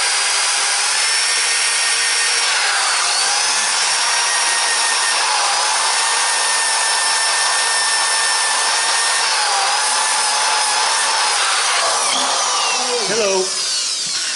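A belt sander fitted with 80-grit paper grinds against wood in a bright, steady high-pitched whir, loud and close, with the tone shifting and rubbing noises as it ends.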